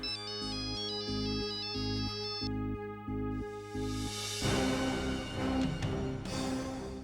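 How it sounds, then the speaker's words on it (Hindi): A phone rings with a looping electronic melody of bright repeated notes over a pulsing beat, loud and close, before the tune shifts into a fuller, noisier musical passage with no talk. "डैड, फोन उठाइए और आवाज पहचानने की कोशिश कीजिए।"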